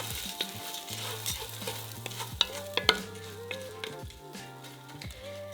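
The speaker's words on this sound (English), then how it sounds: "you're just doing a little bit of browning on the pasta before you add any liquid to kind of give it a little bit of like a roasted flavor" Orzo pasta browning over low heat in oil and butter while being stirred, a gentle crackling sizzle with repeated scraping strokes and small clicks, close and fairly quiet.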